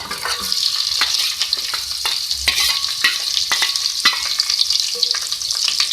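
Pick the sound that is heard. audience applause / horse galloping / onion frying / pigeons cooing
onion frying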